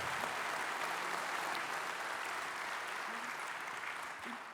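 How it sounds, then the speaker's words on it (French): An audience claps steadily and loudly, a dense wash of applause that holds for several seconds before easing slightly at the end. "je pense que c'est bien d'applaudir nos intervenants ce soir"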